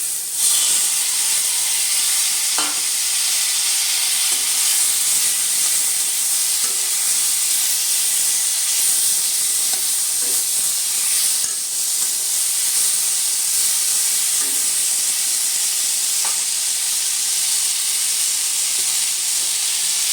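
Tomatoes sizzle in a hot pan seasoned with a pinch of ground cumin, giving a loud, steady hiss of steam and frying that runs without a break, with a few faint clinks of stirring.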